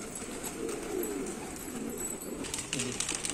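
Pigeons coo softly in a low, murmuring stream after rain on a cold day, faint and continuous with light rustling and a brief human voice in the background.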